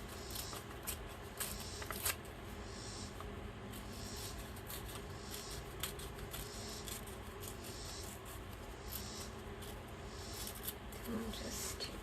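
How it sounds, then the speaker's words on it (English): Paper tears by hand for a composition book planner page, soft repeated ripping and rustling strokes up close, faint against a quiet room. "I think what I'd like to do is kind of do a little bit of tearing"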